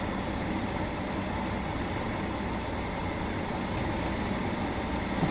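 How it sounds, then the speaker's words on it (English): A low, steady train engine idle in the video game Train Sim World 2 hums continuously at a moderate level, unchanging and without any voices. "I hear an idling engine somewhere."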